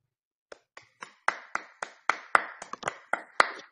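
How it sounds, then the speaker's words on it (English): A small group claps their hands at a live stream, about a dozen crisp, separate claps that start sparse and quicken into an uneven patter before stopping, close and fairly loud with no voices. "Please clap your hands for our brother"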